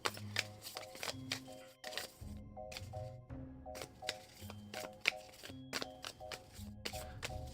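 Character cards for a board game are shuffled by hand in quick, repeated riffling bursts, close and crisp, with faint steady tones underneath.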